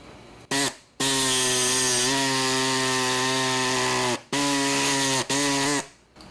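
A powered cutting tool trims a plastic Stealth III license plate frame, giving a loud, steady, high-pitched whine in three long bursts separated by short pauses, close up with no talking.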